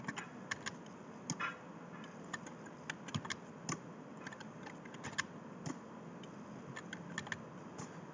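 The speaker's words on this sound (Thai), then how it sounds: "คีย์บอร์ดผมดังเพราะว่า คีย์บอร์ดผมอะซื้อมาใหม่นะครับ มันเป็นคีย์บอร์ดเกม" Rapid clicky keystrokes from a loud, newly bought mechanical gaming keyboard, irregular typing bursts over a soft background hum, close and sharp.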